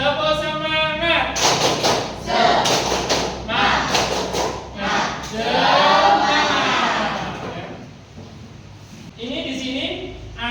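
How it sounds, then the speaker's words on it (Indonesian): Students in a classroom repeat the 'tepuk semangat' clapping chant, with rhythmic clap bursts under group chanting and a teacher's voice, loud and close, ending in speech. "Sekali lagi, tepuk semangat."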